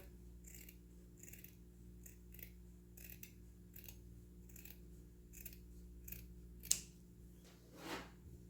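Scissors snip through a fabric-covered foam shoulder pad for a blazer, trimming just above its narrow edge: a steady series of crisp, close cuts, evenly spaced and quiet, with a louder snip near the end and no talking.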